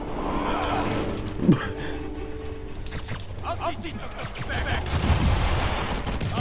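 Bursts of gunfire crackle in Marvel's Spider-Man, a clustered volley near the middle and scattered shots later, mixed with gasping and talking voices.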